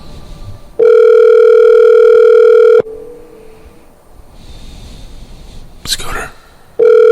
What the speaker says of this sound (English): Calling Scooter, see if he answers the phone.